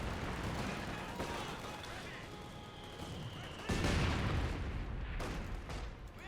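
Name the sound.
gunfire and rifle grenades in Company of Heroes 2 video game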